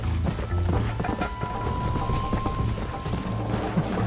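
Horse hooves clip-clopping at a fast pace in the Red Dead Redemption game, a steady galloping rhythm over a continuous background of ambient game sound, with a brief whinny-like tone along the way.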